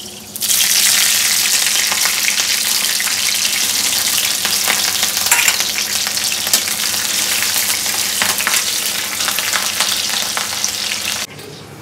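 Chopped chilies hit a hot pan and fry with a loud, steady sizzle lasting about eleven seconds, with occasional stirring scrapes, then the sound cuts off abruptly near the end.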